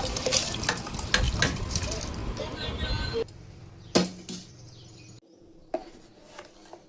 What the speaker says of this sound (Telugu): గ్లాస్ పప్పు బియ్యానికి 3 గ్లాస్ వాటర్ పోసుకొని వేసుకుంటున్నాను